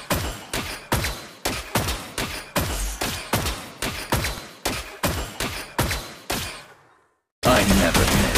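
Rapid, evenly spaced gunshots from Granger's revamped skin in Mobile Legends, a steady rhythm of roughly three crisp bangs per second for nearly seven seconds, then a brief silence before a loud dense burst.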